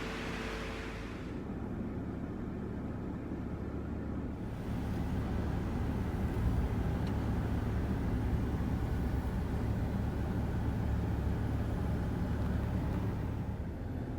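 A car is driven toward a petrol station, heard from inside as a steady low road and engine rumble that swells slightly after the first few seconds and holds, with no talking.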